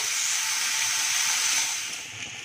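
Drumstick masala paste frying in hot oil in a pan, giving a steady, loud, broadband sizzle that holds evenly and eases off slightly near the end, with no voices.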